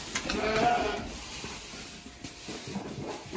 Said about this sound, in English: Here comes our next sheep.